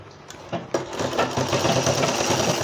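Sewing machine stitching down folded lace on a newborn baby cap, a steady close whirring run of stitches that continues without pause and with no voices.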